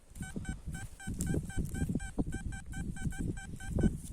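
A steady series of short electronic beeps from a metal detector sweeping a field repeats about twice a second, two tones each, over gusty wind rumble and rustling.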